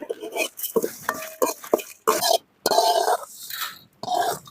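Black urad dal being dry roasted in a pan with pepper, cumin, cloves, cinnamon and fennel: a spatula stirs and scrapes in uneven bursts, close by, with short quiet gaps.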